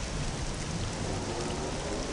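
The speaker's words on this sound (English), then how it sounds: "Ah, this rain's like acid." Heavy rain in the Star Wars Jedi Knight: Jedi Academy game, a steady broadband hiss of downpour pattering on surfaces, constant and fairly loud throughout with no talking.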